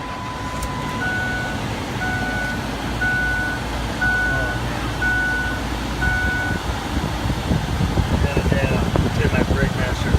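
The cabin blower fan of a 2004 Ford Explorer runs at strong speed with a steady whooshing airflow, while a series of evenly spaced chime-like beeps sounds over it and a voice speaks briefly near the start.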